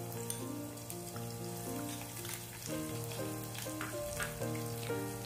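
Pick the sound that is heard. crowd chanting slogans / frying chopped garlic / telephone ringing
frying chopped garlic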